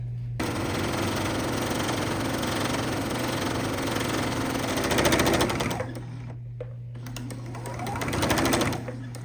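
Sewing machine stitching a hemmed envelope pillow cover, a rapid mechanical whirring hum that runs steadily, swells twice and stops briefly in between, close and loud.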